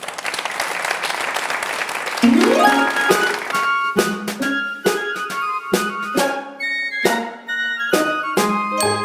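A studio audience at a Christmas variety show applauds a singer with dense, steady clapping that gives way to bright struck musical notes and scattered claps.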